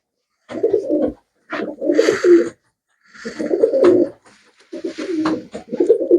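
Pigeons, sold as fancy birds with white heads and crests, coo in close, throaty rolling bursts separated by short pauses, with no talking.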